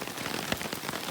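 Rain falls steadily on a backpacking campsite in the Shining Rock Wilderness, a dense patter of drops on the tarp and surroundings with one slightly louder drop partway through and no talking.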